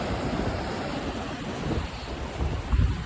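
Floodwater rushing at the Nikol check dam during heavy rain in 2025, a continuous loud roaring wash with gusty surges and wind noise on the microphone, no voices.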